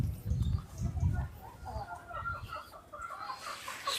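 Turkeys kept outdoors give a run of low, rapid clucking calls in short repeated bursts at moderate distance, with faint higher chirps toward the end.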